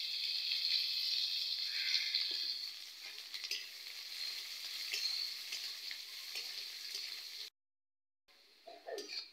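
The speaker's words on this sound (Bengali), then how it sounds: "পেঁয়াজগুলো ভাজা হয়ে গেছে" Onions sizzle and fry in hot oil with bay leaf and panch phoron, a steady crackling hiss that holds for several seconds, then cuts out briefly before resuming faintly.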